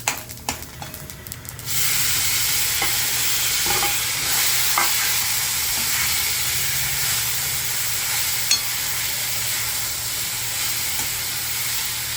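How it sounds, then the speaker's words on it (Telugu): Mustard seeds splutter and crackle in hot oil for a Telugu broad bean curry, a dense close frying hiss with scattered pops after a short quieter start, no talking over it. "అవి ఆవాలు కూడా చెప్పట్లాడుతున్నాయి"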